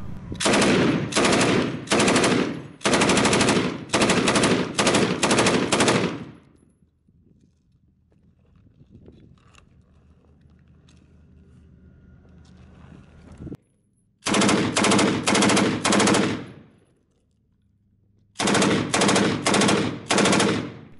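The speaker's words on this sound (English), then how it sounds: "Staff Sergeant Yates, and on December 15th, he took his M249 to the range" An M249 machine gun fires at a range in long, loud, rapid bursts, broken by quiet pauses and then a few more sustained strings of automatic fire.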